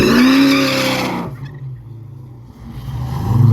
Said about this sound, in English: Pirate fixed to make a nitrous hit here